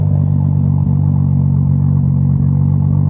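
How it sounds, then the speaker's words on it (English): Toyota Supra with electrical and fuel issues idling: a loud, steady, low engine drone with a smooth, even rumble, close by and continuous. "I'm also one of those people that leaves their car run."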